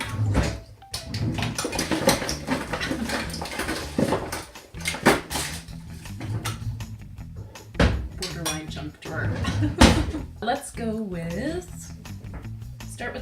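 Metal measuring spoons clink and rattle as a hand rummages through a kitchen set, in sharp intermittent clatters close by, interleaved with a person talking.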